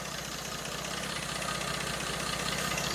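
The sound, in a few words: smooth car engine idling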